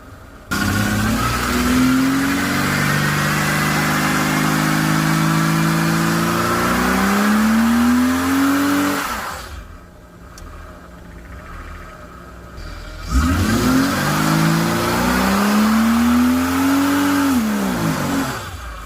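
A car engine revs up repeatedly, its pitch climbing and falling in long sweeps, with a brief quieter lull before it revs again.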